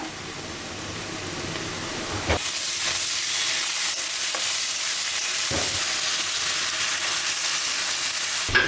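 Garlic paste drops into a hot pan with a sudden loud sizzle that jumps up and holds as a steady, close hiss, broken by a few sharp stirring scrapes, no voices.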